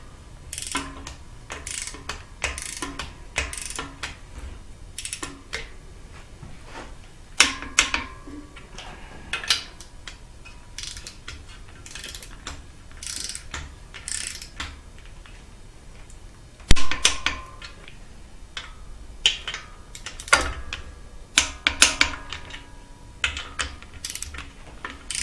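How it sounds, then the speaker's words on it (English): Torque wrench tightening engine mount bolts on a 2013 Subaru STI, a series of sharp metallic ratchet clicks and clunks in scattered bursts, close up in a quiet garage with no talk. "So I'm just going to torque these guys to the block."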